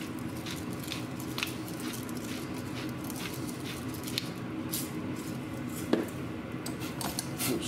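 Food for smothered pork chops is stirred in a pan, with soft, continuous scraping and squishing close by and a few sharper knocks against the pan.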